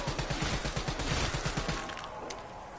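Rapid gunfire tearing through zombies in a zombies shooter game, a quick string of about a dozen evenly spaced shots that stops abruptly, fairly quiet overall.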